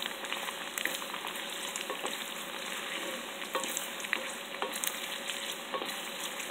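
Garlic frying in oil for homemade chili oil, a steady dense sizzle with scattered crackles and the scrape of stirring throughout, close and continuous with no voices.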